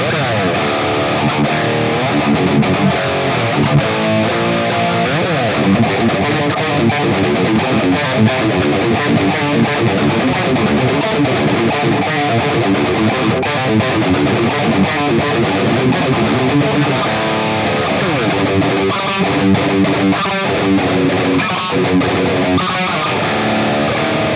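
Distorted electric guitar, an Ernie Ball Music Man JPX six-string, plays a continuous lead line, loud and sustained throughout with a thick effected tone.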